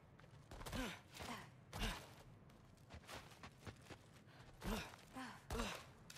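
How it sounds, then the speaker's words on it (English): A creature breathes heavily in a dark cellar in God of War Ragnarök, slow rasping inhales and exhales that come in several separate breaths, fairly close with faint creaks between them. "I think I can hear something breathing near the back of the cellar."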